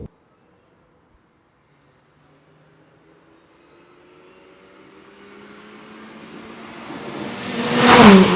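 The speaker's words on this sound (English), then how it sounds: "teve is in front of Damo and not us, because we've recently given his exhaust the HPC custom treatment, and therefore he's making a phenomenal noise." A modified Mini R53 with an HPC custom exhaust approaches on a road trip, starting faint and distant and building to a loud, rasping engine roar as it draws close.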